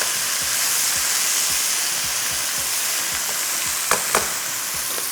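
Chicken hara masala fries loudly in a pan with a dense, constant sizzle, with quick scraping stirs repeating underneath and a couple of sharper clinks near the end.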